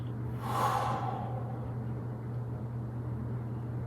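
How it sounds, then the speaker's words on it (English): One breath out during a loosening movement exercise, a soft rushing exhale near the start, close but fairly quiet over a steady low hum of room noise. "breathing out"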